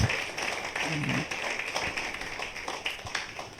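Church congregation applauding during a Spanish-language Father's Day sermon, a dense roomful of claps lasting several seconds at moderate distance, with a few louder individual claps standing out.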